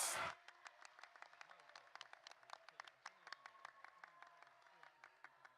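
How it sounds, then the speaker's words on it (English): Faint, scattered applause for child contestants and their parents at a boys' Torah-knowledge quiz event, with distinct separate claps, thin and distant, following a short loud burst at the very start. "a huge round of applause"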